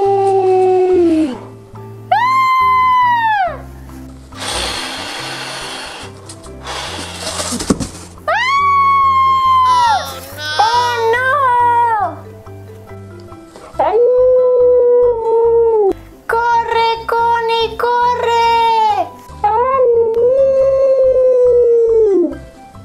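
A wolf in a children's cartoon howls loudly and repeatedly, a voice imitating rising and falling drawn-out howls, interleaved with bright animated musical tones and brief noisy effects.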